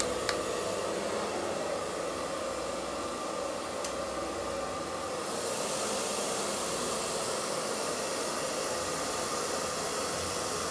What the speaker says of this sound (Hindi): अब इसने हेयर ड्रायर से भी बड़ा डरना है। पहले हल्की स्पीड में इसको चेक करवाएंगे।